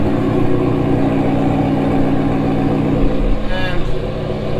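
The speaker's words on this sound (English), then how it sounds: "car is running like a charm" A McLaren 720S twin-turbo engine idling after an alternator repair, a steady loud low rumble with a slight rise in revs near the end.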